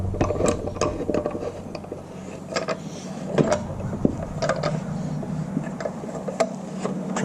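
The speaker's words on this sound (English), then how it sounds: "then we'll put our clamp on it" A clamp is fitted and tightened onto a homemade fandelier part, giving scattered sharp metallic clicks and ratcheting ticks over a low steady hum, fairly close, with no talking.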